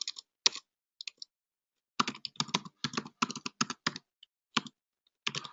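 A computer keyboard is typed on in short bursts of crisp, close key clicks separated by brief pauses, with no voices.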